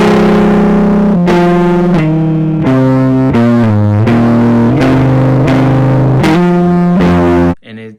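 Stock electric guitar played loud with heavy distortion and effects, sustained chords changing every half second or so in a steady sequence, cutting off abruptly near the end with a brief ringing tail.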